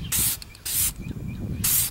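An aerosol can sprays paint onto an engine bay cover in three sharp, close hissing bursts with short pauses between them, building a light first coat over primer.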